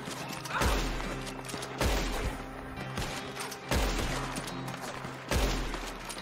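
Gunfire in Red Dead Redemption 2 Online, four heavy shots spaced a second or two apart, each with a booming low-end thump and a trailing rumble over faint background noise.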